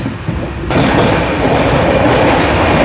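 Netravati Express rumbles loudly along the rails, a dense steady roar with faint rhythmic clatter, heard from on board after an abrupt rise in noise.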